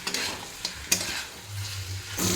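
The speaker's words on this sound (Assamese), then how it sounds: "আৰু ইফালে মই ধুনীয়াকৈ মাছ ফ্ৰাই কৰি আছোঁ।" Fish frying in a pan in a home kitchen alongside chicken being dry-fried, a steady sizzle with occasional clinks and stirring scrapes, fairly close and moderately loud, with no talking.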